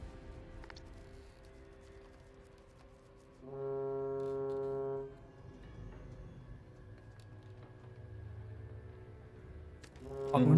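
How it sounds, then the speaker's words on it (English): A deep foghorn effect blares alone for about a second and a half against a low background hum, its long bass tone steady and loud before cutting off. "you all kind of hear the foghorn go from that long, drawn-out bass as it speeds up and its pitch increases a bit"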